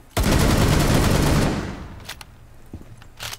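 A rapid, loud burst of unsuppressed automatic gunfire in Rainbow Six Siege lasts about a second and a half, then fades into a quieter tail broken by a few sharp clicks and thumps.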